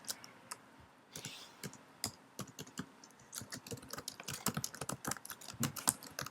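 Rapid clicks of a computer mouse and keyboard keys while editing a web page, crisp close taps in irregular bursts, quiet and alone with no talk.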